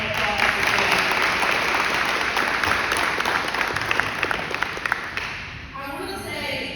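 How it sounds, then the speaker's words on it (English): Sustained crowd applause fills a police department graduation ceremony for the IDDU program, dense and steady before thinning out toward the end, with voices murmuring underneath. "if we can give her a round of applause as well"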